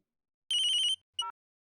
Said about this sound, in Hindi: नैतिक का फोन।